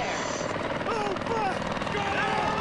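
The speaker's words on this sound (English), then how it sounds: "Chopper!" A helicopter in the video game Battlefield 4 approaches with a steady, loud rotor roar, its whine rising and falling as it nears, while a player talks over it.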